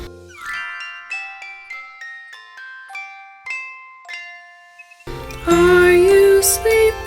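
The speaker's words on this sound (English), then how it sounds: "Brother Tiger, morning bells are ringing, morning bells are ringing, ding, ding, dong, ding, ding, dong." Bright bell tones ring out a ding-dong melody for the morning bells of the children's song Are You Sleeping, clear, close and evenly paced, then a fuller sung and instrumental passage takes over.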